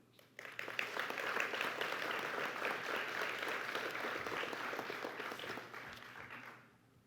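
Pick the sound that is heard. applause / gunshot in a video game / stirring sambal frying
applause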